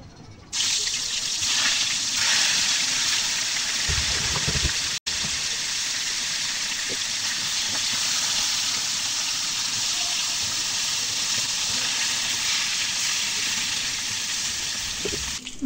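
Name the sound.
tuna fish frying crisp in hot oil in a wok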